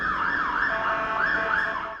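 A police siren from a film wails in a steady rising and falling cycle, loud and close throughout, with no talking.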